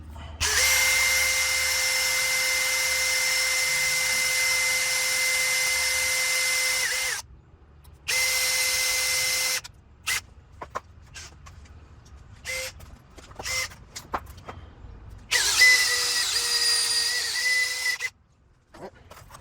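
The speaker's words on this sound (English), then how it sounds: "Drill it out." A power drill whines steadily drilling metal for a sway bar clamp, running long, pausing, then starting again in shorter bursts, with clinks and handling noises in the gaps.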